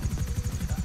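Attack helicopter in GTA Online, a steady rotor thump pulsing rapidly and evenly throughout, loud and close with no speech over it.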